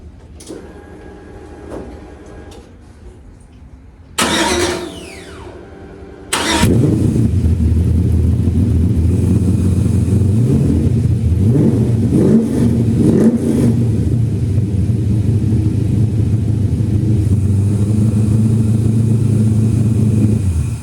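A Chevrolet C-10 truck engine cranks and catches, then runs steadily up close, loud throughout with repeated revs rising and falling over a rough idle.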